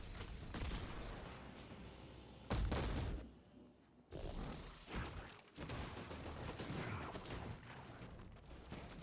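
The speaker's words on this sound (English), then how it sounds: "I'm going to put a grenade here to kill these enemies that spawn right here." Grenade blasts and gunfire in a Destiny 2 lost sector fight, a dense, loud stretch of booming explosions and rapid shots with brief lulls, several heavy bursts landing close.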